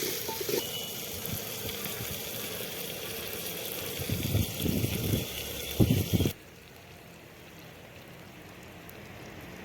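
Food frying lightly in a clay pot while making paneer with onion: a steady soft sizzle with spoon scrapes and stirring clatter, the sizzle dropping away abruptly to a faint hiss near the end.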